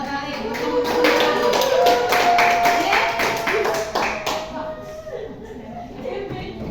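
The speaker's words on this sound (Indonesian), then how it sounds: "Kasih aplaus buat kalian" A class of students claps for a short burst of rapid, close applause that holds for several seconds and then fades out. A faint tone hums underneath.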